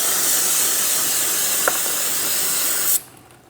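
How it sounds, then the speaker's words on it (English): Aerosol parts cleaner sprays steadily onto the rear brake hub of a 2004-2008 Pontiac Grand Prix, a loud, continuous close-up hiss lasting about three seconds before cutting off sharply into a quiet room tone. "Let's rinse this down with some parts cleaner."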